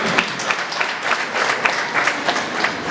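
Wedding guests applaud in a hall, a dense and loud wash of many hands clapping with steady rhythmic peaks that carry through the whole stretch, close and continuous.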